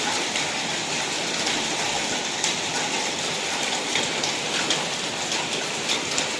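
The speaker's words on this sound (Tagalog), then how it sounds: "Umuulan ng ice. Parang ice siya." Hail and icy rain falling at a home, a dense, steady hiss of pellets striking surfaces, loud and continuous with no talking.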